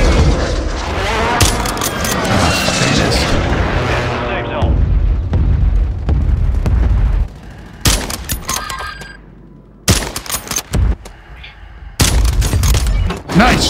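Booming rifle shots and battle explosions in Call of Duty Warzone Resurgence, with a Kar98 sniper rifle in use, loud opening barrage then sporadic heavy cracks separated by quieter gaps, with players talking over them.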